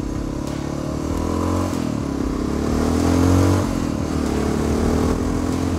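A Honda motorcycle ridden on an adventure tour, its engine droning steadily at close range with gentle rises and falls in revs and wind rush over the top, no talking.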